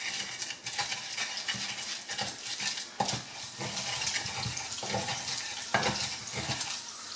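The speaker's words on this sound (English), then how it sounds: "So my onions is also getting nicely sauteed" Onions sauté in a pan for a tomato abomu with peanuts, producing a soft, continuous close sizzle with occasional sharper clicks from stirring and no talk.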